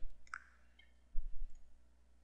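Computer mouse clicks while resizing an image: a single sharp click near the start, then a few soft low thumps, all faint and quiet.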